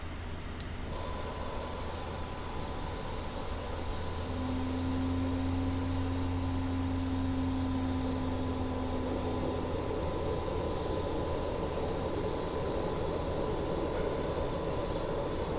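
Simulated Avro RJ100 jet taxiing slowly at Los Angeles International in Microsoft Flight Simulator, a steady engine drone with a low hum and a faint high whine running throughout, a tone swelling briefly in the middle.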